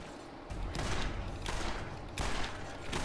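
Video game gunfire from Borderlands rattles out in several loud, rapid bursts, one after another with short pauses between them.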